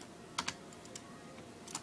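A few sparse computer keyboard keystrokes, faint and close, tapping alone over a low steady background hum.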